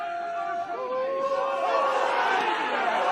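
A rugby cup final crowd between Llandovery and Ebbw Vale swells into a loud, rising roar of voices and jeers, building over a few seconds into a broad, sustained din.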